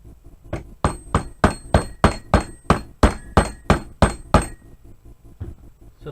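A hammer with a white head strikes repeatedly during modification work on an SKS rifle, about a dozen sharp, evenly spaced metallic blows, close and loud, then stops.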